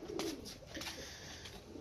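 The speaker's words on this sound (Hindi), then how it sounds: "ये जी अपने कबूतर घूम रहे हैं धूप में" Pigeons cooing in the sun, soft low coos close by over a faint outdoor background, lasting a brief moment.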